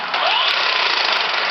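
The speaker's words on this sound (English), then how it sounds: "My impact wrench is working backwards." An impact wrench running in reverse during a Villiers engine repair, a loud, steady, buzzing mechanical whir that holds for about a second and a half, close and alone.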